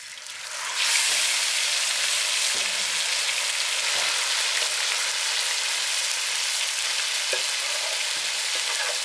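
Marinated chicken pieces with chopped green chilli hit a hot tawa and burst into a loud, steady hissing sizzle that swells within the first second and keeps going evenly, with occasional faint stirring clinks.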